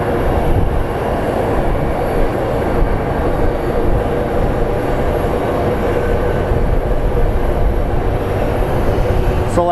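A small aircraft at Phoenix Sky Harbor airport gives off a steady, loud engine rumble and rushing noise that stays constant throughout, with no talk.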